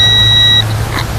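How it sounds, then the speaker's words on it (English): Single electronic beep from an E520S device after it is held still, a clear steady tone lasting about half a second and then cutting off, leaving faint background noise. "there's a beep"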